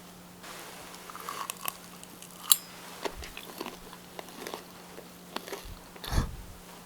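Crunchy sweet-salty galbi-flavored chicken dip snack eaten up close: irregular crisp bites and crunchy chewing, with one sharper crackle partway through and a heavier crunch near the end.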